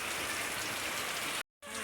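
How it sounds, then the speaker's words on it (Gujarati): Rain that has been falling since morning, a dense, even hiss of drops hitting surfaces close by, holding steady before a brief total dropout and then resuming. "સવાર દીનો વરસાદ ચાલુ છે"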